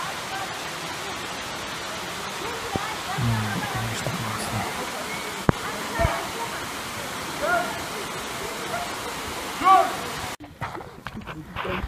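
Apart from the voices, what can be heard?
waterfall in forest near Issyk-Kul lake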